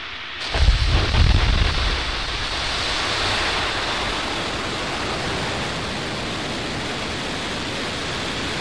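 A SpaceX rocket roars at launch with a loud, steady broadband rumble that swells early on, then settles into a continuous, unbroken roar with no talking.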